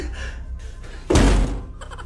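A person bumps into a door with a single loud, heavy thunk partway through, brief and close, after quieter muffled sounds.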